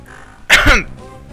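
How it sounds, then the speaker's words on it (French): A single short, rough cough or throat-clear, loud and close, standing out against a quiet background hum. "je tousse beaucoup"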